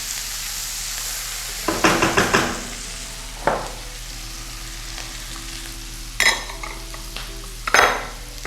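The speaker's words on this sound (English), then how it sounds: "You can lower the heat at this time just so the onion cooks right through." Onion cooking in a pan over lowered heat with a bit of Scotch bonnet pepper, a quiet steady sizzle broken by several short bursts of stirring and scraping.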